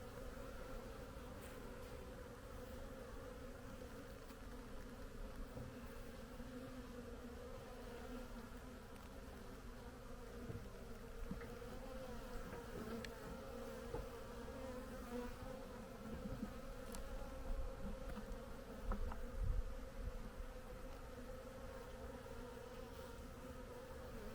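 A quiet, continuous buzzing drone of many calm Carniolan honeybees at an opened breeding hive, steady and low, with a few individual bees passing a little closer.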